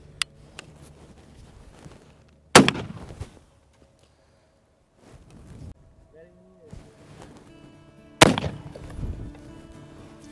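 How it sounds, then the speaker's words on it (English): Two loud, sharp blasts from a Cimarron Model 1878 double-barrel hammered shotgun, several seconds apart, each with a short rumbling tail, amid quiet outdoor background. "Let's do a few more shots."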